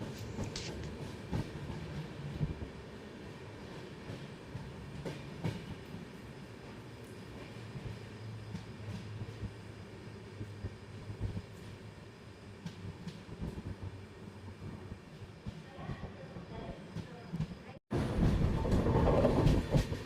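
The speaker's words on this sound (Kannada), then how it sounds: "ಎರಡು ನಿಮಿಷ ಹಾಲ್ಟ್ ನಂತರ ನಮ್ಮ ಟ್ರೈನ್ ಧಾರವಾಡದಿಂದ ಹೊರಟಿದೆ" Rani Chennamma Express pulling away from Dharwad, heard from on board as a low, steady rumble with faint rhythmic wheel clatter and occasional creaks, swelling louder in the last few seconds.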